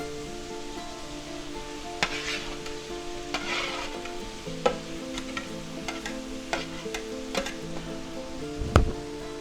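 Shrimp chow mein noodles with vegetables stir-frying in a hot pan, giving a steady close sizzle broken by repeated scraping and clacking stirs, with a louder clatter near the end.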